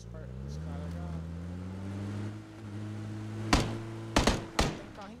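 In a battleground video game, a car engine hums low and steady nearby, its pitch rising gradually, before a few sharp impact thuds and gunshot-like bangs cut in near the end, with talk throughout.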